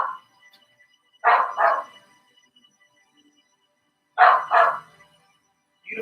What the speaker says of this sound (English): As you can hear, the dogs are feeling the Aries season.